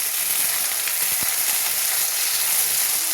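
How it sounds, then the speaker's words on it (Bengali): Onions frying with panch phoron spices, with eggplant nearby, give a steady, close hissing sizzle that runs evenly throughout with a few faint low stirring knocks and no speech. "পেঁয়াজ ভাজা ভাজা হয়ে গেছে, একটু পাঁচফোড়ন দিয়েছি।"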